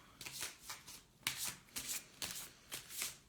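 Tarot cards shuffled before a card draw, riffling in about six quick, soft bursts with short pauses between them, close and quiet with no talk.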